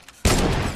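A single loud, sharp sniper rifle shot in a video game, hitting abruptly after near-silence and ringing with a dense, sustained crack to the end.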